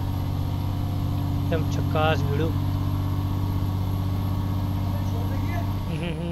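An Indian truck idles steadily in Euro Truck Simulator 2, a loud, continuous low engine drone with a constant tonal hum throughout, while someone speaks briefly over it.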